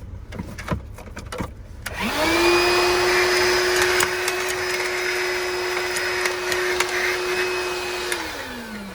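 A few handling clicks, then a small DeWalt 20-volt cordless vacuum cleaner whirs up and runs with a steady high-pitched whine for several seconds before spinning down.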